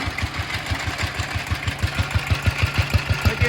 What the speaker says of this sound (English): That exhaust sound sounds strangely familiar to me.